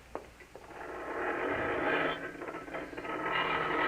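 Garage door opening as a radio drama sound effect, a mechanical ratcheting grind that swells into a steady rolling rumble, fairly close and alone.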